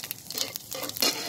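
Tempering spices crackle and sizzle in hot oil in a wok, with a short burst of close, bright hissing and a few sharp pops, no voices.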